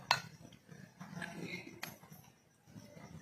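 A small spoon clinks sharply against a dish a few times while asafoetida is added for a peanut and sesame chutney, with brief metallic taps over a low kitchen hum.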